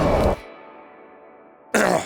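A man outdoors in East Lothian, suffering a weeks-long cough, gives two harsh coughs, one at the start and one near the end, with a quiet echoing gap between them.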